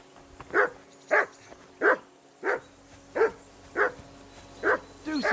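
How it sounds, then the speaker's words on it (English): A dog barking in the medieval video game Kingdom Come Deliverance II: eight evenly spaced, mid-loud barks, close by, over a quiet ambient game background. "Be quiet, you flea-bitten hound."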